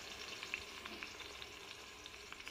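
Chopped mint fries in hot oil, giving a faint steady sizzle with a few light clicks and stirring taps, no voices.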